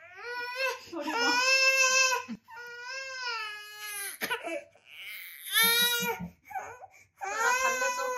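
A newborn baby cries in loud, close, wailing bursts, several sobbing cries broken by short gasping pauses, with no speech over them.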